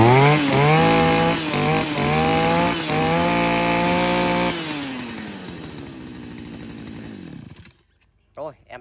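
A gasoline brush cutter with a 40mm bore engine runs a test start, with a loud, steady buzzing drone and a few revs before it winds down and cuts out, followed by brief handling noises.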